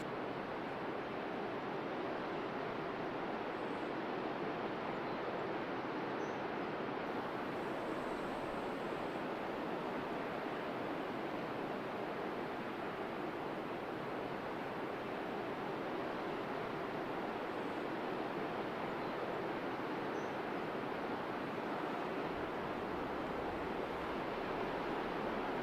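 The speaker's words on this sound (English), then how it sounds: "the waves rolling past the rugged and interesting rock forms" Ocean surf rolling past rugged rock formations on a beach at Cape Blanco on the southern Oregon coast, a continuous broad roar of breaking waves, steady and unbroken, with some wind mixed in and no voices.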